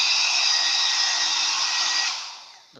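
A Nova NHP-8100 hair dryer runs with a loud, steady, harsh airy roar, then winds down and fades out in the final moment as it is switched off.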